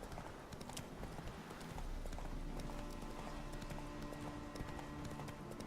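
Horse hooves clip-clop steadily at a gallop along a road in the video game The Witcher 3: Wild Hunt, a quiet, continuous drumming with no voices over it.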